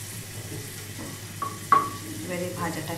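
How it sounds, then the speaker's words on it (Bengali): Frying in a pan for an egg and potato bharta: a steady sizzle and hiss runs throughout, broken by a couple of sharp utensil clinks near the middle. "একদম লাল লাল করে ভেজে নেব"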